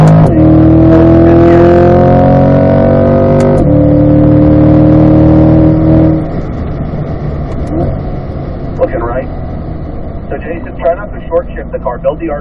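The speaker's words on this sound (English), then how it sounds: "You should be in fourth gear, rev it out through this corner, into the apex" A 2020 Corvette C8 engine revs hard on a track lap, its rising pitch climbing loud and steady before a shift, then dropping to a lower rumble under faint background noise.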